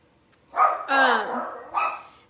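Puppies barking indoors, three close, loud barks in quick succession, the middle one drawn out into a higher whining yelp, with no other sound around them.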